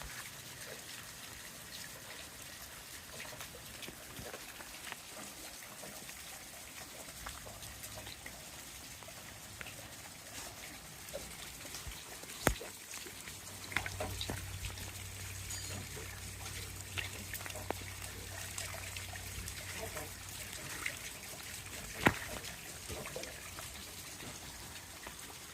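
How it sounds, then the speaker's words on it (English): Water rushes and trickles as it drains down below inside an old police station under renovation. The flow is steady and moderately far off, with a few sharp knocks and splashes along the way. "That's quite the rush of water that's going on down there."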